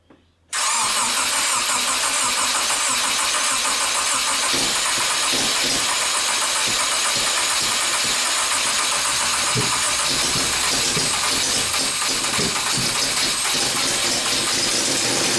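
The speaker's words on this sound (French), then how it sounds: "Ok, donc ça démarre, super. Alors bon, ça a eu un peu de mal à démarrer" A restored Toyota Corolla 100 NX engine cranks and fires after a moment of near silence, then settles into a loud, steady idle close by, with no one talking over it.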